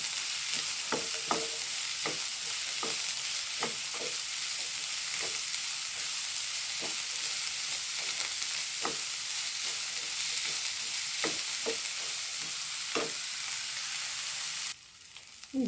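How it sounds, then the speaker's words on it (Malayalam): Sliced onion sautéing in coconut oil in a pan, a steady broadband sizzle throughout with repeated soft scraping stir strokes, close and fairly loud, no talking, ending with a brief drop near the end. "ഇനി ഇതിലേക്ക് ഉള്ളിയാണ് സവാള ഇട്ട് കൊടുക്കുന്നുണ്ട് വഴറ്റിയെടുക്കട്ടെ"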